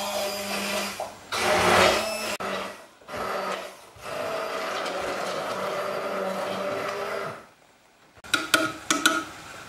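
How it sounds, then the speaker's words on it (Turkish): Blender running on homemade tomato juice in a kitchen, loud whirring bursts with short pauses between runs, ending in a few clattering knocks. "Pomidor sokunu blenderdən keçirirəm."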